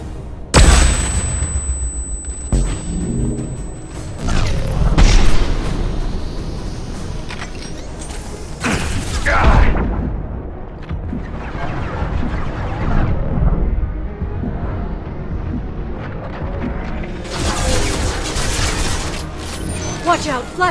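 Flashbang grenades going off during a firefight in Mass Effect 2, repeated sharp explosive bursts and booms with ringing, over heavy gunfire and mechanical clatter, with voices talking in the mix.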